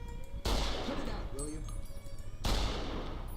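Two loud rifle shots ring out from a modded Game Rifle in Fallout: New Vegas, carrying the same report as the survivalist rifle, each a sharp crack with a long ringing tail, with a voice speaking briefly between them.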